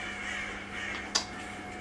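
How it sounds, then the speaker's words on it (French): Crows caw in the Rise of the Tomb Raider video game, a single brief call rising out of a steady, hissing game ambience. "Il y a quoi les corbeaux là?"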